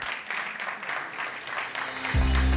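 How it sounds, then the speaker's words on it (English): Broadband clapping from a conference audience at an esports summit panel fills the clip, steady and moderately loud, ending with a low hum or music swelling in at the close. "Please give him a round of applause."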